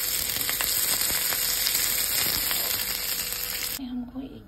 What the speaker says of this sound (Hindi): एक अनियन अलग से कट किया था, इसको हल्का सा तेल में थोड़ा फ्राई करना है